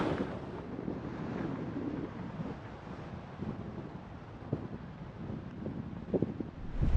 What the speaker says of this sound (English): here it's too windy here even to walk